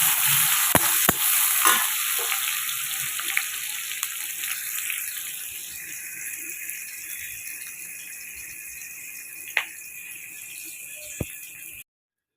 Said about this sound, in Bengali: তো তেলে কই মাছ আমি ছেড়ে দিলাম এই যে তারপর ছেড়ে দিলাম পিয়াজ